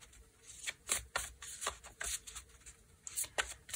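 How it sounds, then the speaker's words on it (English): A deck of cards is shuffled by hand at a crafting table, giving repeated soft riffling bursts at an uneven rhythm. The sound is quiet and close, with no talking. "Okay, let's shuffle."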